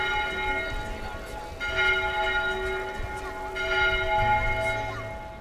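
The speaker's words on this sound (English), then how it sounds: "it was later converted into a bell tower for the cathedral" Bells ring in the Seville Cathedral bell tower. Several loud strikes come at uneven intervals, each leaving long, humming tones that overlap and carry on beneath the next strike, with faint ambient noise underneath.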